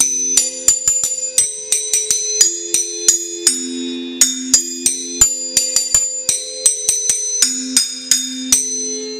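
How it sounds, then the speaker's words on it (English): An old set of bells rung in a short jingle to call everyone downstairs in a college fraternity house: a close, bright run of many quick ringing strikes in an uneven rhythm, with no talking. "we've got a set of bells here that are also super old"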